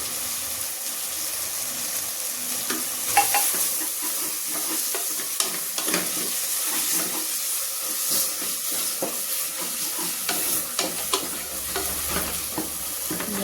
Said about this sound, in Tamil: எல்லாம் சேர்ந்து கொஞ்சம் நேரம் அப்படியே ஆயிலே நல்லா ஃப்ரை ஆகும்.